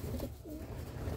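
A soft, low coo from sport pigeons rising and falling briefly against a dense background murmur.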